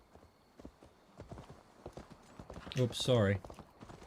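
Horse hooves clip-clop steadily in Assassin's Creed Valhalla, a rhythmic run of close, moderately loud hoofbeats, with someone speaking briefly over them near the end.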